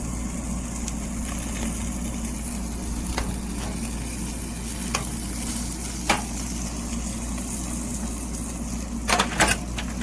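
Asparagus sizzling on a small portable infrared propane grill outdoors, a steady loud frying hiss with a low burner roar underneath and a few faint clicks of utensils, no talking.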